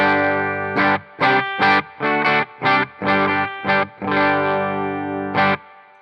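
Clean electric guitar on the bridge pickup through a Blue Guitar Amp 1 channel: a series of strummed chords in a choppy rhythm, each sharp and bright and cut short. The final chord rings out, close and fairly loud, with no one speaking.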